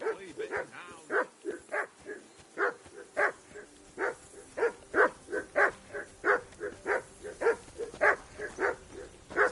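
A dog in the video game Kingdom Come: Deliverance II barks repeatedly, a steady run of about two dozen sharp, evenly spaced barks heard close and fairly loud, with no talk over them.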